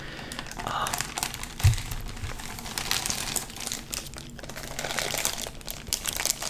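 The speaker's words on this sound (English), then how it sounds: "How do you guys like plastic crinkling, plastic wrap?" Plastic wrap crinkling close up, with bursts of soft crackling and rustling running on and off under a quiet voice.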